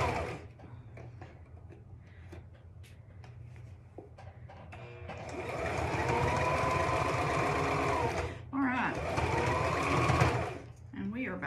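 A sewing machine stitches a child's hat in two long steady runs of rapid whirring, close and loud, with brief pauses and clicks between, while a person talks quietly before the stitching begins.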